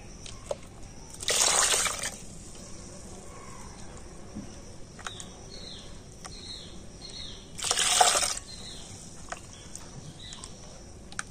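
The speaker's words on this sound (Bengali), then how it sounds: "এবার আমি পেস্ট করা বাদামের মধ্যে দিয়ে দিচ্ছি জল" Water poured into ground peanut paste to thin it, heard as two short splashing pours several seconds apart against a quiet background.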